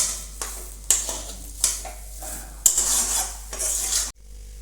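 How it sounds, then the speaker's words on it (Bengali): A spoon stirs green kebab mixture seasoned with garam masala and lemon juice in a pan, giving repeated scraping strokes against the metal, a few sharper clanks and a soft sizzle underneath. The sound stops abruptly near the end. "সব কিছু আবার ভালো করে নেড়ে নেব।"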